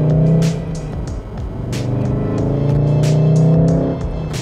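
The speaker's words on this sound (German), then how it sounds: "der Golf R ist auch schon ziemlich laut" A Volkswagen Golf R engine drones steadily at speed on the Autobahn in bad weather, heard loud from inside the car with a low hum that swells slightly, with no talking.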